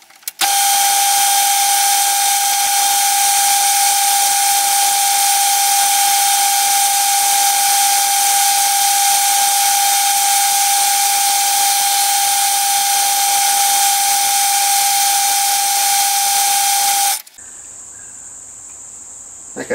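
A lathe taking light cuts on a model mill engine piston with a high-speed steel tool, giving a loud, steady high-pitched whine that runs unbroken and then cuts off abruptly near the end.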